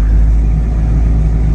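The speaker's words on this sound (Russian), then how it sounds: "Двигатель запущен." Car engine idling just after a cold start in freezing weather, a loud, steady low rumble that holds even throughout with no voices.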